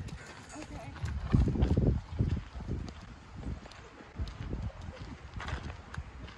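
Polo horse hooves cantering, a rhythmic run of close thudding beats, with people talking over it.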